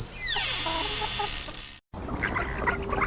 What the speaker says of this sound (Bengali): নজু ব্যাপারে একটা হাঁস মুরগির খামার ছিল